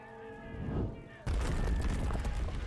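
A volley of massed musket-style gunfire in VRChat erupts suddenly after a short stretch of murmuring, a loud, dense crackle of overlapping shots and booms that carries on to the end.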